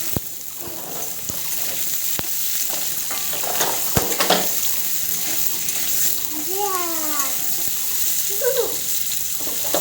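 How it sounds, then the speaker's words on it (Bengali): Cut potatoes frying in a pan of oil with red chilies for a paneer dish, a steady close sizzle with occasional stirring clinks, and a voice speaking softly over the frying. "তারপরে এর মধ্যে আমরা কাটা আলুগুলোকে দিয়ে দেবো, দিয়ে ভাজতে থাকবো কিছুক্ষণ"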